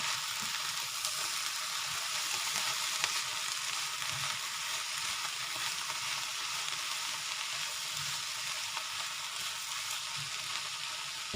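Food frying in a pan gives a steady, close sizzle while being stirred, with soft scraping strokes now and then throughout and no talking.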